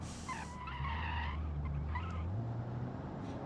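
A sports car in the game Automation takes a mountain road with a steady low engine drone. Brief tire squeals cut in over it, and the sound stays fairly close and moderate in level.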